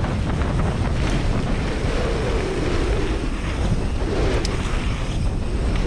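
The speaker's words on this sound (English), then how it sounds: "getting blown on the wind" Strong wind roars steadily across the microphone of a mountain bike rider racing a mass start event at Antur Stiniog, a loud continuous buffeting rush with no talk.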